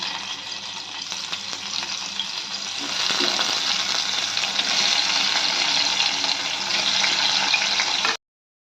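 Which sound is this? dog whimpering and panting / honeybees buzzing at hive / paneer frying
paneer frying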